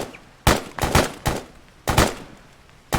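Gunfire in the Arma military game, a series of sharp loud shots fired in an irregular rhythm, with about five cracks close together and some overlapping, then a final shot at the end.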